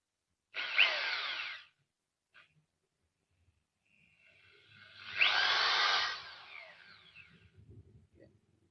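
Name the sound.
Mollar MLR-ID550 electric drill running in forward mode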